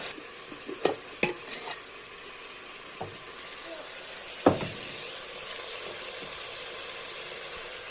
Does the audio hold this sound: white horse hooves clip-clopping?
no